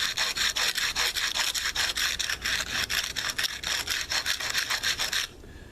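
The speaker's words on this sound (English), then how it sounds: "I'm basically just taking this and just rubbing it back and forth." Arrow straightener rubbed back and forth on rough asphalt, a loud rasping scrape repeated in quick even strokes, about four per second, close up for five seconds before it stops abruptly.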